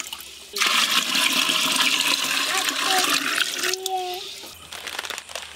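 Water poured into a cooking pot to boil rice for fried rice, a loud steady gush for about three seconds that then tapers into quieter trickles and splashes.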